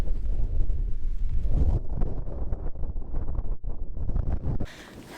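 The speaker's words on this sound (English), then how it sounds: "I'm very scared the wind will blow it away" Strong wind gusting across the microphone on a mountain hiking trail to Laguna Torre, a loud, close, continuous roar and buffeting that drops away abruptly near the end.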